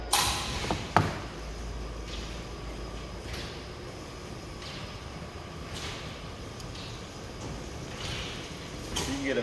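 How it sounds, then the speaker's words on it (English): A garage bay door closes beside a BOSS Snowrator, with a steady mechanical rumble and a few creaks and clunks over nearly ten seconds. "I'm going to close this door."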